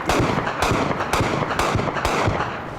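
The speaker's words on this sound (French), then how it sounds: "Ça c'est précis le canon de 20, ça fait pas de dommages collatéraux." Rapid bursts from a 20 mm cannon in Afghanistan combat, dense repeated sharp reports in quick succession, loud and continuous with no talk.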